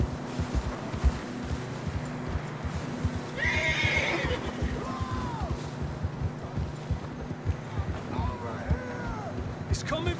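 A horse whinnies sharply amid steady, rhythmic hoof clip-clops in the video game Red Dead Redemption 2, ridden over outdoor ground with continuous riding noise underneath and further softer snorts.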